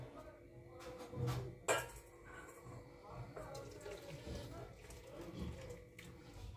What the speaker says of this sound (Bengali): এবার কড়াই থেকে নামিয়ে নিচ্ছি আর জলটা ঝরিয়ে নিচ্ছি।